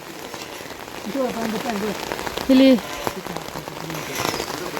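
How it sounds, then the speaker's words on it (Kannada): Heavy rain pours steadily on surfaces outside a house in a flooded native village, a dense continuous hiss with a person speaking briefly over it and a short tonal sound in the middle. "ಫುಲ್ ಮಳೆ."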